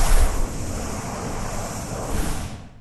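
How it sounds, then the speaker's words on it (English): A designed whoosh sound effect built from processed car key jingles forms a steady, loud windy rush that swells slightly near the end before cutting off. "Next up is what I call the blue power whoosh."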